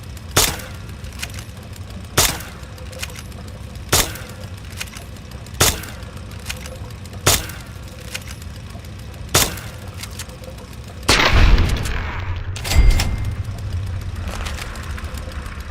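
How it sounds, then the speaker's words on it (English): BB gun shots fired at a radroach in the Fallout video game, sharp evenly spaced cracks about every two seconds over a low steady hum, ending in a louder burst of clatter. "Think you can take care of that with your BB gun? Just aim and shoot."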